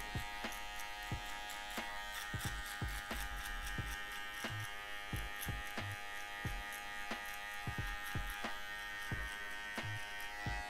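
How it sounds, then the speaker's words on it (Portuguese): Electric hair trimmer buzzing steadily and close during a mid fade haircut on afro hair, with a constant motor drone and frequent small clicks and taps as the blade works through the hair. "Com a maquininha de acabamento, com a zero e com a zero alta."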